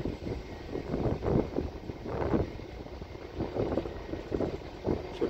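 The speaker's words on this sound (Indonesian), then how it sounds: "suara engine pesawat sudah mulai menjauh" Scoot airliner taxiing away from an airport apron toward runway 18: a low, rumbling jet engine drone with wind buffeting, fairly faint and fading as it recedes.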